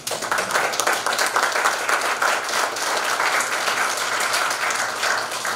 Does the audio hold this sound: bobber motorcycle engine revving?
no